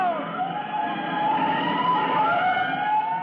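A fire engine siren wails steadily from blocks away in an old-time radio drama, a continuous rising and falling tone heard alone at moderate volume.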